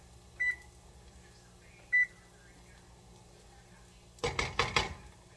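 A kitchen appliance timer being cancelled gives two short beeps a second and a half apart, followed by a brief burst of clattering.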